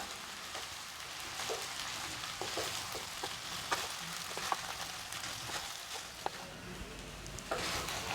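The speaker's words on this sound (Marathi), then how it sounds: "तर आता साबुदाणा आपण टाकून घेतला यात हे छान असं मिक्स करूया" Soaked sabudana being stirred into a hot pan for khichdi, a low, steady sizzle broken by soft scraping strokes and occasional light ticks of a spoon against the pan.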